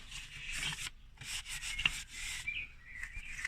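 A cloth wipes oil off Nissan Micra K11 engine parts in close, scratchy rubbing strokes, several bursts of brisk friction separated by short pauses.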